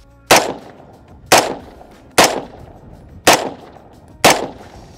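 Five rifle shots fired one at a time at a target roughly 40 to 50 yards away, loud and close, evenly spaced about a second apart, each with a short echoing decay.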